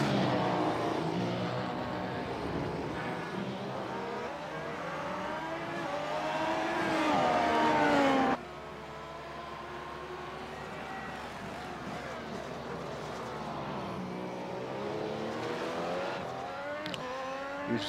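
Race cars lapping the Belgian Grand Prix circuit in a sim racing video game, engines revving high and shifting gears as cars pass, with a commentator talking over the steady track noise.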